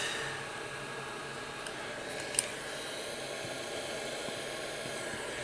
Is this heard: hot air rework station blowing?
yes